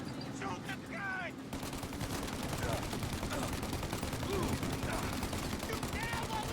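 Rapid bursts of gunfire from a Mafia: Definitive Edition shootout, dense repeated shots layered over constant loud action noise, with shouting voices mixed in.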